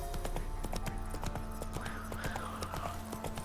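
Roach the horse galloping in The Witcher 3, a fast steady rhythm of hoofbeats close by with a low rumble beneath, continuing throughout without talk.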